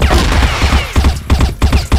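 Bursts of video game gunfire, rapid rattling volleys that stop and start in several clusters, loud and close.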